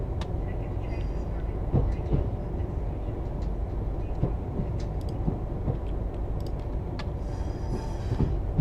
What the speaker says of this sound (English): See if we get that nice clickety-clack across the points.